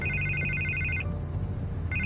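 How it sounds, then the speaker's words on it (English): A telephone rings in Batman: The Telltale Series, a loud electronic warbling ring pulsing steadily for about a second, pausing, then starting again over a low ambient background. "I can't get the phone to stop ringing."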